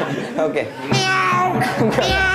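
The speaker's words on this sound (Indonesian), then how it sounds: "Ada suara kucing lagi. Ada suara kucing." A cat meows a few times amid lively chatter and a voice nearby, with some light laughter mixed in.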